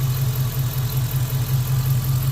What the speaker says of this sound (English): I'm going to get the motor very hot here in a minute and start running this.